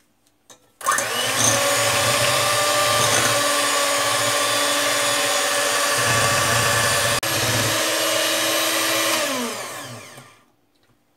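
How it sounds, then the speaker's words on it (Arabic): An electric mixer beats cake batter of sugar and oil in a bowl, starting abruptly and running with a loud, steady whirring drone for about nine seconds before winding down, with no talking. "وغادي نبدا نطرب هذا الخليط هذا"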